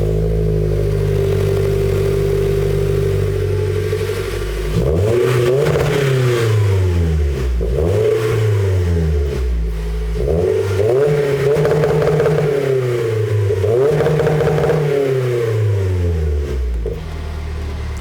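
A 2020 Toyota Corolla fitted with a Remark exhaust and AEM intake idles, then revs repeatedly in rising and falling sweeps up to a soft limiter around 4,500 rpm, loud and close.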